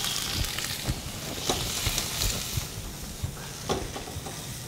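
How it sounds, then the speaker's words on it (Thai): Shrimp sizzling in hot sesame oil in a pan, a steady loud frying hiss with occasional sharper pops and crackles throughout, no voices. "น้ำมันร้อนแล้วคนใส่กุ้งลงไปครับ"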